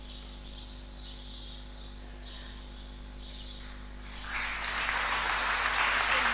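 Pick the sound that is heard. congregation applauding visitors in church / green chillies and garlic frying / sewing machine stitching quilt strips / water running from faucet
congregation applauding visitors in church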